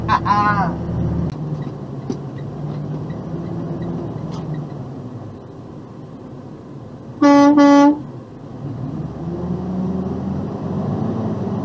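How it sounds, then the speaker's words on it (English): A single loud, blaring air horn blast cuts through partway in, lasting under a second, against a low murmur of background noise. "Kid wanted an air horn next to me."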